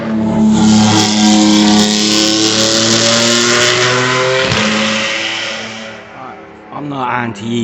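Classic race cars at Thruxton Circuit roar past close by, loud engines revving and accelerating with a harmonic whine, fading away before another engine note rises; someone speaks over the noise.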